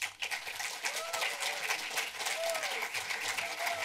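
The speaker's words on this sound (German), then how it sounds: "Bitte begrüßen Sie mit großem Applaus" An audience breaks into loud, sustained applause, many hands clapping together with a few scattered calls and whoops.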